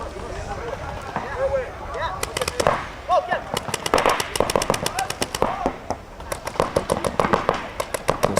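Rapid bursts of paintball marker fire at a 2003 World Cup tournament game, Impulse and Intimidator guns trading shots, close and loud with dense snapping volleys over crowd noise and a talking voice.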